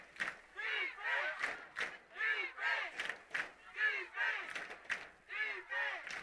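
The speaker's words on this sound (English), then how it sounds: "Crowd getting lively again." A crowd at a high school football game chants and cheers in a rhythmic, repeated pattern, voices rising and falling in roughly half-second pulses at a moderate distance.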